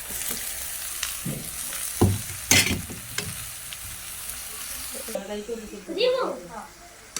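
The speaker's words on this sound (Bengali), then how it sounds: "লাউ ভাজির জন্য পেঁয়াজ কাঁচামরিচ শুকনো মরিচ দিয়ে দিছি" Onion with green and dried chilies frying in a pan for a gourd stir-fry, a steady sizzle with stirring clatter and scrapes, and a voice talking over it near the end.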